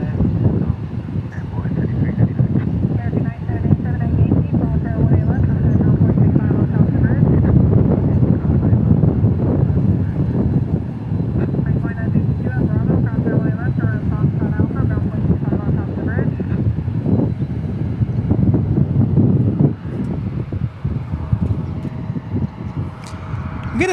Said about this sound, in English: We get a nice wind today